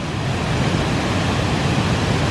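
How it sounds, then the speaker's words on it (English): A waterfall swollen by flooding, seen from above near a bridge, roars as a steady, dense rush of water with no break and no voices. "And this is normally just a really pretty waterfall."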